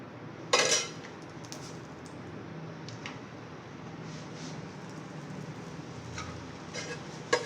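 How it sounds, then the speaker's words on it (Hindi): Ghee being spread on a hot tawa for garlic paratha, a sharp metal clink at the start, then a soft low sizzle with a few light scrapes and taps, close by. "तवे पे थोड़ा सा घी लगाएं।"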